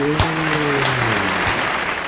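Applause from a church congregation during a Portuguese-language service in Brazil, steady and full across the whole stretch, with some tonal voice or music lines running underneath.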